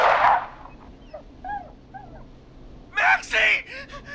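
A dog whimpering and yipping in the horror game Killer Frequency, a few thin, high, wavering whines spread apart, nearby and moderately loud, following a short burst of noise at the start.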